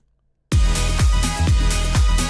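A disco house track plays loudly after a short silence, driven by a steady four-on-the-floor kick beat under dense, layered music.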